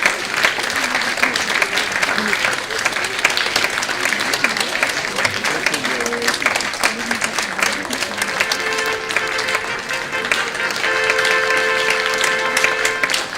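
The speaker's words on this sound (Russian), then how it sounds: "Эти аплодисменты." A theatre audience at a production of The Little Prince gives long, even applause, dense clapping sustained throughout, with faint voices underneath.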